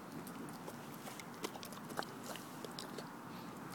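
A big bulldog named Beauregard chews on fruit snacks close by, with soft, irregular smacking and mouth clicks over a steady hiss of room noise.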